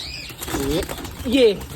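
A short burst of wing flapping from a Chinese pigeon hen being caught by hand, with a faint voice murmuring and cooing-like tones in the background.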